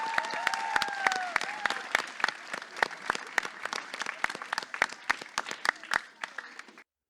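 Live audience applause for the crew of Teatro Flávio Império, a dense round of clapping with sharp individual claps that thins and fades out toward the end, alongside a brief voice.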